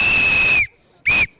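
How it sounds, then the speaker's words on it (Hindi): A whistle is blown to cheer for India at a 2019 World Cup cricket match between India and Australia: one long shrill steady blast, then a shorter second blast, loud and close. "जरा भारत के लिए सीटी हो जाए।"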